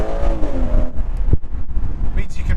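Exhaust of a 2016 BMW 440i convertible with its B58 engine rumbles up close with rising revs, mixed with wind noise and a voice talking.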